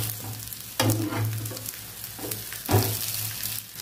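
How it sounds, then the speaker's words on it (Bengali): Egg and eggplant frying together in a pan, a continuous close sizzle with a couple of louder bursts where the pieces are moved or turned. "দেখুন আমার দুদিকটা ভালো ভেজে নিয়েছি"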